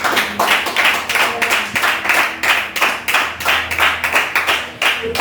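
Church congregation clapping in rhythm at a Sunday worship service, a steady beat of many hands repeating about twice a second, loud and close throughout, with faint voices beneath.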